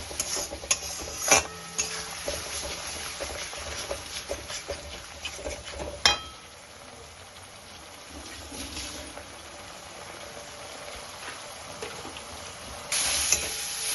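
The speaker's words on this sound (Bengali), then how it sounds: "আর দেবো একটু স্বাদ মতো লবণ দিয়ে আবারও নেড়ে এটা ভালোভাবে একটু কষিয়ে নেব" Spice paste with salt fries in a pan while a spatula stirs and scrapes, giving irregular clinks and taps over a continuous low sizzle.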